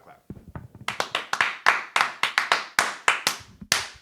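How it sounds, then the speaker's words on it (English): Sharp hand claps ring out in a quick, slightly uneven run, about a dozen, after a few soft taps; nobody speaks. "Let's just clap real quick"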